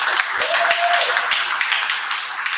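Crowd applause at a press conference for the African American Day Parade, a dense steady patter of many hands clapping close by, with a few brief voice sounds mixed in.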